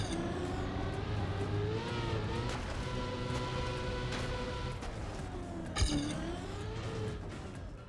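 A TrackMania race car on wet wheels drones with a steady engine tone that rises and falls through gear and speed changes, with a brief sharp knock near the end, close and continuous.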